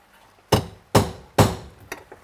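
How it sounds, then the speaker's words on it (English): Three sharp, loud metallic strikes of a hammer on a punch, marking a car body panel before drilling, evenly spaced, followed by two lighter taps; close up, no talking. "take yourself a punch. If you don't have a punch, that's okay. A 16-penny nail or similar."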